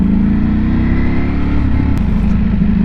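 A Ducati Panigale V4 motorcycle engine with 215 bhp, heard loud and close in a steady, continuous drone as the bike accelerates on a road.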